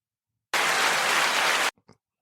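Dense burst of many hands clapping, a canned applause effect that starts abruptly, holds loud and even for about a second, then cuts off sharply, followed by a couple of faint trailing sounds.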